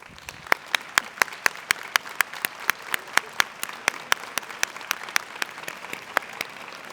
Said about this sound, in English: would you please stand up and give them a round of applause?